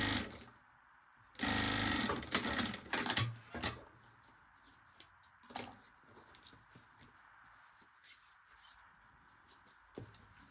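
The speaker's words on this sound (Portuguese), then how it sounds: "Pra não deixar de costurar essa parte aqui." A sewing machine stitches a baby backpack in a short, loud burst, followed by scattered brief mechanical clicks and taps over a quiet background.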